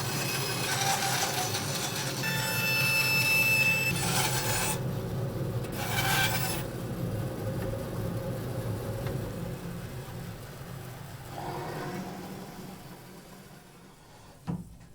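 A wooden hurl is shaped by sliding it against an abrasive surface, giving a steady close rasping scrape with a couple of brief louder bursts, fading toward the end.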